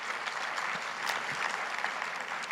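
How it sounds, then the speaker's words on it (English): Audience at a charity fundraising gala applauding steadily, a dense wash of many hands clapping at moderate volume throughout with no talk over it. "So I think that's worth an applause."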